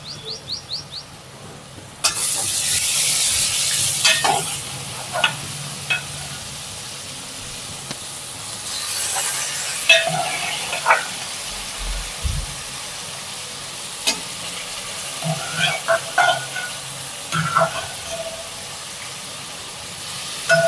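Dhesa vegetable sautéing in a pan: a sudden burst of loud hissing sizzle when the pieces hit the hot oil, settling into a steady frying crackle with scattered stirring clinks and scrapes, no talking.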